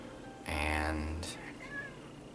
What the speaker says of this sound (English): wouldn't be one of my videos without an interruption from my kitty.